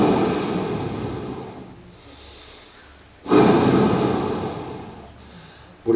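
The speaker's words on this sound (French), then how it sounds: "cette respiration consiste à être assez violente" A person lying down demonstrates a forceful breathing exercise, with loud, rough, close breaths rushing in and out in long bursts separated by brief quieter pauses.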